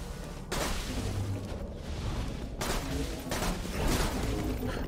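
Gunfire in the video game Borderlands 2, heard as a series of sharp, broadband shot bursts over a dense, noisy game soundscape, with no talking.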